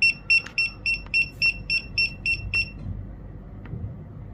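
Low-voltage warning alarm on a 2019 BMW X7 during diagnostics with a GODIAG GT327 scanner: about ten quick, high-pitched beeps in an even rhythm, then the beeping stops and only faint background remains.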